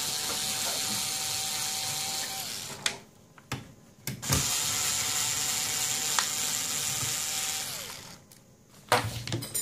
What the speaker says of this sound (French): On desserre ces deux vis.